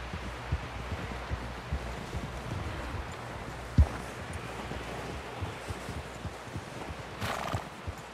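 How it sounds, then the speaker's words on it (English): Horse hooves clop steadily over a rustling outdoor background in the video game Red Dead Redemption 2, with a sharp thud near the middle and a brief horse whinny toward the end. "Someone help John down off this horse."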